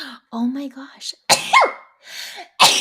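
Someone sneezes loudly during a live therapy-themed show, and a short exclamation and other speech follow.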